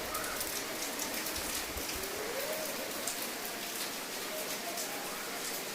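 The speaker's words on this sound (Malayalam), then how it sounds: "പുറത്ത് നല്ല മഴയുണ്ട്" Heavy rain pours down outside, a dense, steady hiss with pattering drops that holds evenly throughout.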